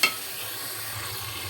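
Potatoes sizzling softly in a pan while being stirred, a brief scrape at the start followed by a steady low crackle, close and alone.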